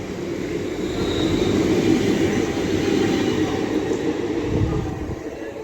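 At Stafford on the West Coast Main Line, a London Northwestern Railway class 350 electric unit gets under way, its loud rolling rumble swelling then easing over several seconds, near and continuous with no talk.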